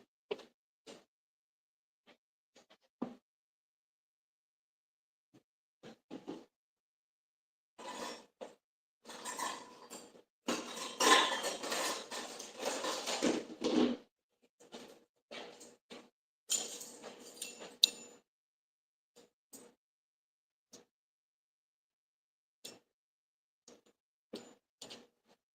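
Small metal measuring spoons clink and scrape against a container while scooping baking powder and salt for a pound cake, in scattered short bursts with a busier stretch of rattling in the middle, fairly close.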